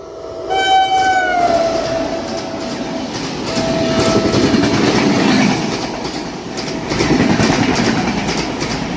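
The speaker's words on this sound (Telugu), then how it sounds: "మంగళ లక్షద్వీప్ ఇందాక మనం చూసిన ట్రైన్ రిటర్న్" The Mangala Lakshadweep Express passes at a single-line railway crossing. A loud horn blast comes first, then a heavy rumbling clatter of wagons that swells and fades in waves.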